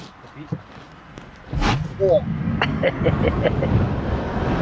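A Tesla Model 3 pulls away hard from a standstill, giving a quiet rising electric whir and road rumble that builds after a couple of seconds, with people talking over it inside the car.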